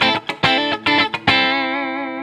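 A Stratocaster electric guitar with a single-coil pickup plays through an amp set to maximum distortion, with the guitar's volume knob lowered to 6. Several quick choppy strums lead into one chord that rings on, gritty but thinned out.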